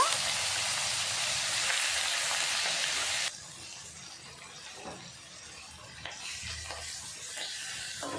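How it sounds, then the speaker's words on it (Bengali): Tiger prawns fry in hot oil, giving a loud dense sizzle for the first few seconds that then drops to a quieter crackle with occasional stirring scrapes. "বাকি যে চিংড়ি মাছগুলো আছে সেগুলো সব ভেজে নেব।"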